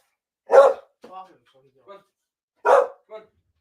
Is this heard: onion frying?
no